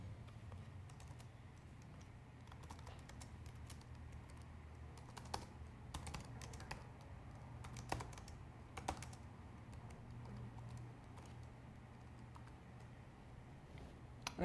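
Soft typing on a computer keyboard, scattered keystrokes and a few sharper key taps, over a faint steady hum.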